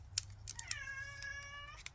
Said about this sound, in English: my cat is yowling in the background